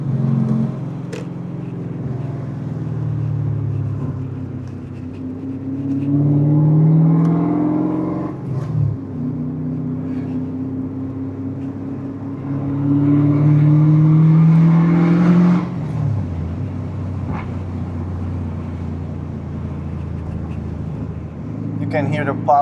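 BMW M5 E39 V8 revving from a driver's seat, a deep droning engine note rising and falling through several pulls with faint pops, loud and close, with someone talking over it.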